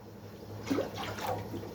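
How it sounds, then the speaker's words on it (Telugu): A short splash of water is poured into flour dough for moringa-leaf masala chakkalu. It is a faint, brief pour over a quiet kitchen background. "నీళ్ళు కూడా అన్నే పోసుకుంటున్నాను"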